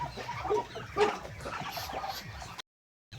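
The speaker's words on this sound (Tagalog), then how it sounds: "May mga sisiw pa tayo dito mga batang yan." Chicks and chickens on a farm cluck and peep in a busy overlapping chorus close by, with a brief silent gap near the end.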